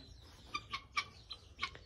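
Hen clucking in a short series of soft, quick clucks, a handful of separate notes over under two seconds, fairly faint and close, with no speech.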